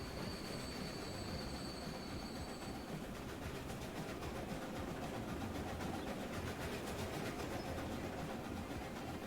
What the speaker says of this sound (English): There's a passenger train flying above us right now.